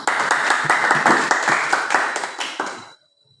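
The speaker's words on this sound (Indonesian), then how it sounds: "Kasih tepuk tangan dulu." Hands clap together in a dense burst of applause from a crowd at a school gathering, loud and close, fading out and stopping abruptly near the end.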